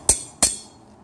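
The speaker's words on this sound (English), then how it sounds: "Well, I've got our slide hammer." A slide hammer on a car's inner CV joint gives two sharp metallic impacts about a third of a second apart, each ringing briefly, close and loud with nothing else heard.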